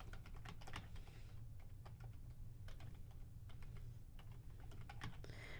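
Quick, uneven keystrokes on a computer keyboard tap out in short bursts with brief pauses, close and fairly quiet against a low steady hum.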